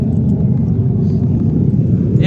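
A Honda Beat scooter with a racing exhaust rumbles at a low, steady idle, loud and close, and it is the only sound heard.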